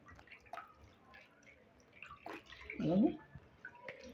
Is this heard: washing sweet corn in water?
yes